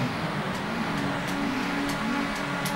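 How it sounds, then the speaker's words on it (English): Touring car engine in TOCA 2 Touring Cars on PS1, a steady droning rev held at a constant pitch with faint periodic clicks, close and continuous without speech. "So the engine revs rise"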